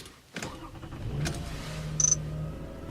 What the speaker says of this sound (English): I'll try the new key to make sure it starts the ignition